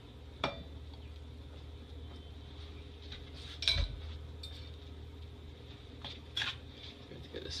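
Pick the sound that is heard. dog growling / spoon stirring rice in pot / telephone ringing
spoon stirring rice in pot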